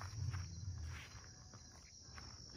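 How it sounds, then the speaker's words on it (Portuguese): Crickets chirp in a steady, high-pitched drone, fairly faint, with soft low thuds like footsteps underneath. "barulho dos grilos, mano."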